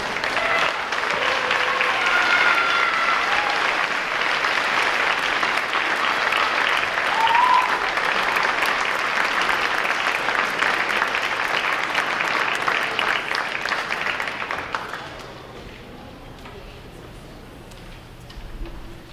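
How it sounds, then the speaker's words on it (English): An audience at an 8th grade awards ceremony applauds a group of award recipients with sustained, dense clapping that stays loud for about fifteen seconds, then thins out and fades to scattered claps and room noise. "Let's give them a round of applause."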